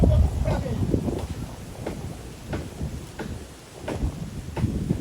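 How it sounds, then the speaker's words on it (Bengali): Heavy rain arriving with thunder, a rushing downpour and gusty wind noise punctuated by several sharp cracks and rumbles, loud and close throughout. "বিশাল বৃষ্টি আইছে বৃষ্টি চলে আসছে"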